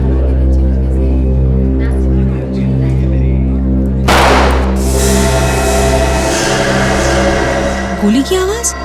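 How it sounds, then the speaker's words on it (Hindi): A sharp, loud gunshot crack bursts out midway over a steady low hum in a hotel kitchen, followed by a short rumbling tail. "गोली चलने की आवाज आई यहाँ से।"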